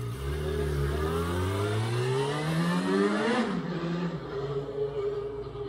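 Scooter engines revving close by, the pitch climbing in repeated rising sweeps before dropping back to a lower idle, loud and continuous.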